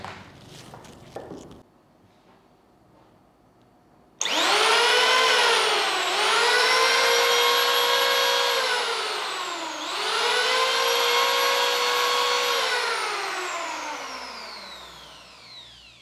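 An INGCO PL7508 electric wood planer switches on after a few seconds of near silence, then runs with a loud, steady high-pitched whine, its motor pitch dipping and recovering twice before it starts to wind down.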